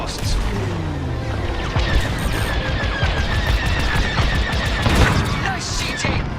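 Starfighter blaster fire in the space combat game Star Wars: Squadrons comes in rapid, dense bursts of laser shots and booms over a loud, constant roar of engines and battle.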